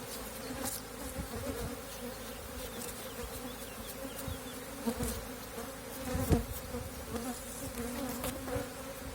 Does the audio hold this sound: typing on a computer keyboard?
no